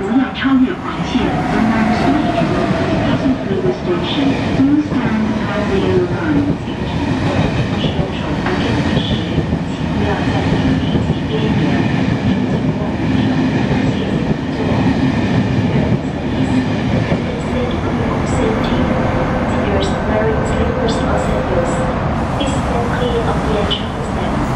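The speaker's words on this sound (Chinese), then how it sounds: "不停站列车将会驶经本站，请乘客不要超越黄线。" Train passing non-stop through a station in a Chinese-speaking region, a loud continuous rumble and rattle of rail cars with clickety-clack rhythm, heard close on the platform for the whole stretch, while a public announcement voice speaks over it.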